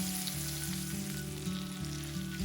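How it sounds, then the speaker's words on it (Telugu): Onions fry with curry leaves in a pan over low flame, giving a steady, soft sizzle up close with a faint low hum underneath and no talking. "ఉల్లిపాయలు వేగుతున్నప్పుడు దీనిలో కొద్దిగా కరివేపాకు వేసుకుందాం."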